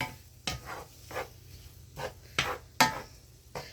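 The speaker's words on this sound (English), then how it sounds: "I'm going to cook this shrimp in the garlic and the onions until it's done." Shrimp cooking in a pan with garlic and onions, heard as a few separate scraping, stirring strokes over a faint low sizzle, near and moderately quiet with no talking.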